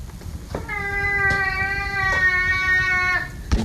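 A house cat gives one long, loud drawn-out meow lasting about three seconds, strong and close with a clear tonal wail, with a couple of faint soft sounds before and after it.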